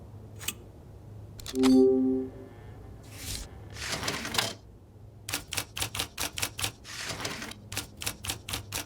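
An old typewriter with defective keys clacks in a mystery game set in the Alps, starting with a few scattered strikes and a brief tone, then speeding into a fast run of sharp, evenly spaced keystrokes, close and alone.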